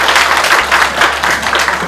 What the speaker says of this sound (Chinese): 一个掌声好不好？